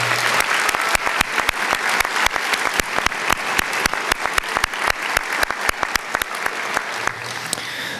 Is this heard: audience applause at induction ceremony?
yes